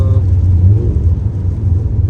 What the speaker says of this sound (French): on a la sonorité du 5 cylindres qui nous envoûte